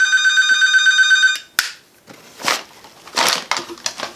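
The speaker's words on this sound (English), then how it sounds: "Turn off the phone, Cheryl." A telephone rings with a bright, steady electronic trill lasting over a second before cutting off, followed by rustling and handling noises close by.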